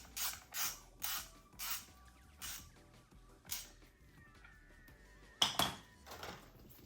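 Metal parts clink and ratchet in short spaced bursts as the top cap goes back onto a 1980 Honda CB750F front fork after fitting the preload spacer, with a sharper, louder clatter near the end.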